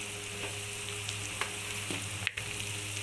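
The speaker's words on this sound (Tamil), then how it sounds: "வெங்காயம் நல்லா வதங்கட்டும் கொஞ்சம் ப்ரௌன் கலரில் வரட்டும்" Onions and curry leaves sautéing in oil, a steady hiss of frying with faint stirring taps and one sharper clatter near the end, fairly quiet and close, no one speaking.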